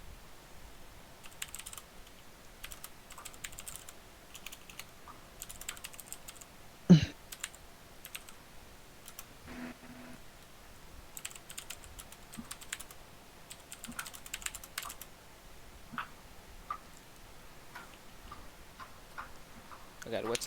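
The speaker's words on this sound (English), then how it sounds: "I'm just typing it out so you can." Quiet computer keyboard typing of a message, with soft, irregular clicks in bursts that run throughout and one louder knock partway through, recorded at low volume.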